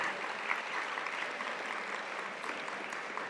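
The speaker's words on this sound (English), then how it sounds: "Please give them a round of applause right here." Steady audience applause for coaches at a high school athletic awards ceremony, a dense even wash of many hands clapping throughout with no talk over it.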